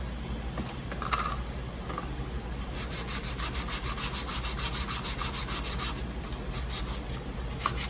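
Dried fiberglass cover for an aircraft fuel sensor being hand-sanded, a steady close scratchy rubbing that runs the whole time in continuous strokes with no talk.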